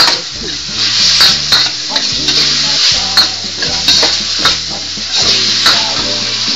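Pork and tofu with black beans stirred in a frying pan: a steady sizzle under repeated scraping and clacking strokes of a utensil against the pan, close and fairly loud throughout.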